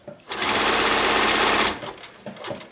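A sewing machine stitching appliqué embroidery for a library-themed quilt, one loud steady whirring burst of over a second that stops abruptly, followed by soft clicks and handling noises.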